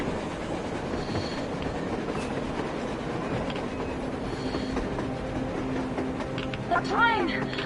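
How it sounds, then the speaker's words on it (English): A train rolls along rails in the video game Metro, a continuous rumbling clatter with metallic screeches and squeals rising near the end, while voices talk over it. "A train! A damn train on the surface!"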